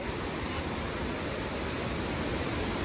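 The Bomburu Ella waterfall roars as a constant, dense wash of rushing water, loud and unbroken from start to finish.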